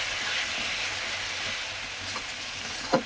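Ginger and garlic frying in a pan, a steady broadband sizzle and hiss running throughout with a small pop near the end.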